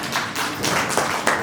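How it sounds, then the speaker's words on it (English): Applause from a seminar audience welcoming distinguished guests, a steady wash of clapping that swells in a few waves over its short length, with no talk over it. "let us once again welcome all our distinguished guests with a hearty round of applause"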